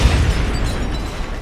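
Blaster shots and explosions from a Star Wars LEGO brick film form a loud, continuous low rumble of booms and bursts, dense and close without any clear pauses.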